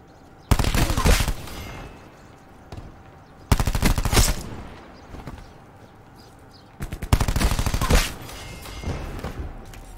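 Submachine gun fire from Black Ops 4, played in hardcore mode, comes as three loud rapid-fire bursts, each lasting roughly a second, separated by quieter gaps.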